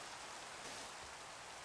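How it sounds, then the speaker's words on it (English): Steady, even hiss of rain in a video game, a soft continuous patter with no talking, faint and unbroken across the short stretch. "It's raining and dark, which is bad."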